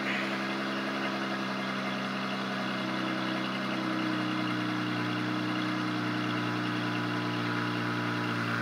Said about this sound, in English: I love the sound of this car. I don't care if it's a V6.